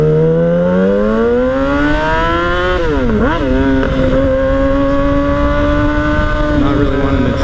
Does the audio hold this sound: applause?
no